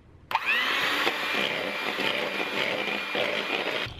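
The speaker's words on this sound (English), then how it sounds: "Now I'm gonna take a hand mixer and mix until I have a nice thick, foamy consistency" A handheld electric mixer whips vanilla-sweetened cream into a thick foam for a pumpkin cream cold brew. It starts abruptly with a loud, steady whirring buzz that stays close and constant for several seconds, without any talking.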